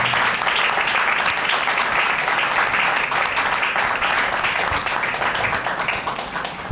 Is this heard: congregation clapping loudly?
yes